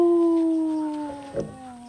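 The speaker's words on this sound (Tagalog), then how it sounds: "Umaalulong na aso." A dog howls in a long, steady, drawn-out wail that slowly falls in pitch, with a brief faint noise near the end.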